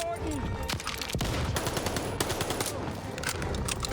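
Bursts of MP40 submachine gun fire in the Call of Duty: Vanguard campaign on PS5, rapid sharp shots crackling over a dense battle din with a loud thud near the middle, steady and close throughout.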